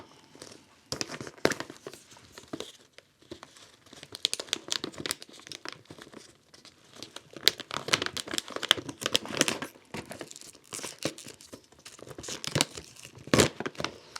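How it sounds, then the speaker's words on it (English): A plastic bag of paraffin wax pellets torn open and handled, close crinkling and rustling in irregular bursts with brief quiet gaps. "So I'm going to open the bag now."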